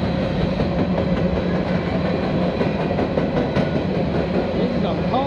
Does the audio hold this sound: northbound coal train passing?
yes